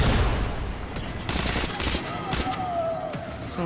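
Sustained gunfire fills a firefight in the shooter game Metro Last Light, with dense overlapping shots loud and close for the first half, then easing to scattered reports.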